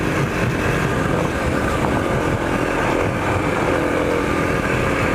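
Kawasaki KLX 250 trail motorcycle being ridden on the road, a loud, continuous engine drone mixed with steady wind rush, holding even throughout with no talking.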